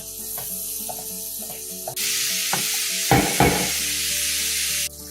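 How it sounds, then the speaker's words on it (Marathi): Masala sizzling in hot oil in a pan while being browned, with a broad frying hiss that swells loudly partway through, punctuated by scraping stirs and a couple of sharper knocks of a spoon against the pan. "याला छान आपण तांबूस परतून घेऊ"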